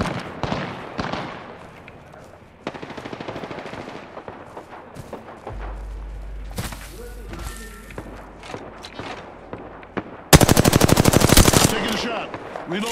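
Gunfire in the battle-royale shooter Apex Legends comes as bursts of rapid automatic shots and single cracks, building to a loud sustained volley near the end, mixed with footsteps and in-game voice callouts.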